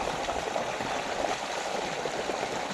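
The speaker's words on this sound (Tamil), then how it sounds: "மெயினாக தண்ணி வருதுங்க." Water streams steadily through a rural stream in a calm native countryside setting, a constant close rushing and gurgling wash with no pauses and no voices.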